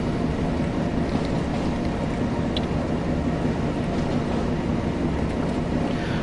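A train braking on the West Somerset Railway in Train Sim World gives a steady, broad rumble and hiss that holds at an even level throughout, with no voices.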